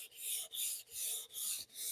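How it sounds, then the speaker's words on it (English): Rhythmic hand sanding of a finish in a kitchen, about five even back-and-forth strokes of 400-grit sandpaper on a sanding block, close and soft, with brief pauses between each pass. "I am currently using a sanding block with 400 grit paper"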